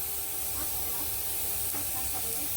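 An electric mixer grinder whirs steadily as it grinds torn pieces of bread into fine crumbs, a continuous hissing motor drone with faint tonal hum and no talking.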